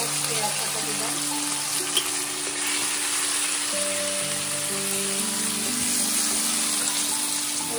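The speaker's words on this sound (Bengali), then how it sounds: "এখন আমি এর মধ্যে পেঁয়াজ বাটাটা দিয়ে দিচ্ছি। পেঁয়াজ বাটা দিলাম।" Onion paste sizzles in hot oil in a blackened wok, cooking for a Chital fish curry; a steady broadband hiss runs throughout, with faint tonal hum and clatter underneath and no talking.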